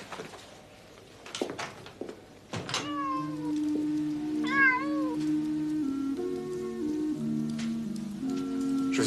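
A small cat meows, with several brief clicks and taps first, then a sustained sequence of wavering meows over a steady background hum, fairly close.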